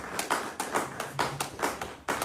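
A church congregation applauding in rhythmic unison, sharp claps landing about twice a second, loud and close, with no one talking over them.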